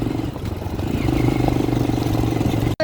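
A motorbike engine on a steep, dangerous mountain road, a low steady drone at moderate distance that holds throughout before a brief cutout near the end.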